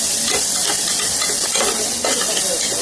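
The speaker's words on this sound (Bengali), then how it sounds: "এবার এটা একটু নাড়াচাড়া করতে থাকবো, মশলাগুলো যাতে ভাজা ভাজা একটু হয়ে যায়।" Spices with cumin powder frying in a pan while being stirred, a loud continuous hiss of sizzling oil with soft scraping strokes of the spoon recurring every second or so.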